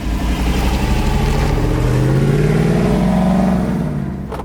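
A 2021 Jeep Wrangler JL with the Hemi 392 V8 accelerates hard. The loud, close engine roar climbs steadily in pitch for several seconds with no talking, then eases off at the end.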